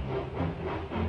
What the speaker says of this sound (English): James and Edward puffed into the yard